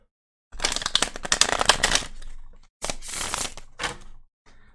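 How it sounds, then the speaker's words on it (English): Tarot cards being shuffled up close, two rapid riffling bursts followed by a few shorter card flicks, crisp and alone with no talking. "I'm going to go ahead and shuffle"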